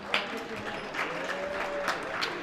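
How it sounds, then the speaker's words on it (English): Fans in a packed high school gym applaud as the Bulldogs varsity basketball team enters the court, with bursts of clapping and cheering over a crowd murmur, fairly faint and uneven. "And the fans go wild."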